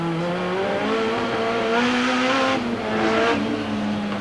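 A 1988 touring car racing at Amaroo Park, its engine loud and close as it accelerates with rising pitch, briefly dips at a gear change and climbs again, with no talk over it.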